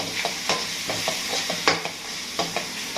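Spices being stirred in a frying pan for qeema karela, minced meat with bitter gourd: repeated scraping strokes of the spoon over a steady sizzle of frying, close and fairly loud.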